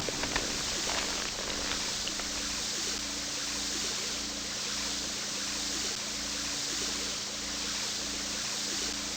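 Water pump draining a fountain in the Resident Evil video game: a continuous rushing, gurgling flow of water with a steady low mechanical hum underneath, constant and moderately loud throughout without pauses.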